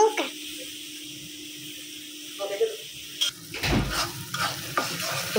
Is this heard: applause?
no